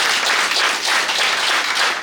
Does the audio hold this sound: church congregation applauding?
yes